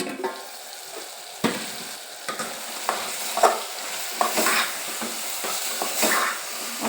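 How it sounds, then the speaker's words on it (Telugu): Bottle gourd (sorakaya) curry sizzles in a pan as it is stirred, a close crackling fry punctuated by repeated spoon scrapes and knocks against the pan, with no talk. "మన కర్రీ అయితే ఉడుకుతుంది."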